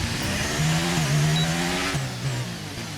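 A Formula 1 race car in the F1 2023 video game revs up and then slows under braking, its engine tone climbing, holding and dropping at a steady, loud level with no talking.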